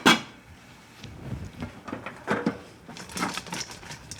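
A pot of mussels with parsley is shaken on the stove, with an opening clunk followed by a run of rattling, clattering knocks of shells and metal, close and moderately loud, no speech.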